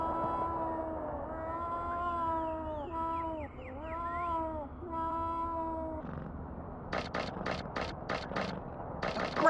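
A video game cat meows in long, drawn-out tonal calls while it is petted, each meow rising and bending over the first six seconds. A run of sharp rhythmic clicks and rattles follows.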